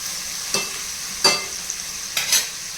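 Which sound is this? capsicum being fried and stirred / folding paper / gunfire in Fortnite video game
capsicum being fried and stirred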